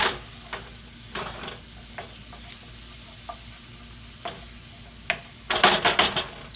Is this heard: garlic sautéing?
yes